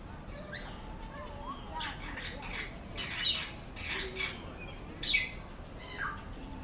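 Several wild birds squawk and chirp in short bursts, with sharp louder calls standing out now and then over a steady background hiss and faint talk.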